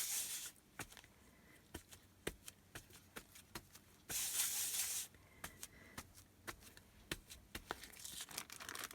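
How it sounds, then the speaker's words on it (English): A spray bottle puffs a little water onto paint on paper: one short, soft hiss of mist about a second long, set among quiet scattered taps, rustles and paper handling. "Spray a little tiny little bit of water because the paint dries quickly."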